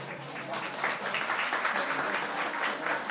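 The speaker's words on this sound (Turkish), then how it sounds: "bir alkış olsa." Steady, dense applause from a crowd at a family celebration, a continuous wash of many hands clapping at even loudness throughout.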